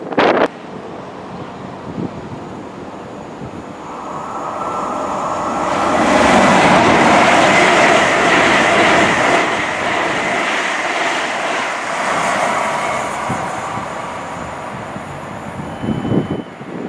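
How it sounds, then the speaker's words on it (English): Train passing through Longniddry station, a ScotRail stop on the East Coast Main Line, rising from a quiet start into a loud rushing roar that holds for several seconds, mixed with gusting wind, then fades. "This is Longniddry station, ScotRail operated station"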